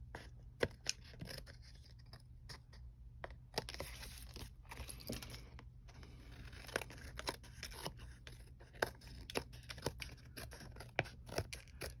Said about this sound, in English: Okay, so we're going to cut all of these off.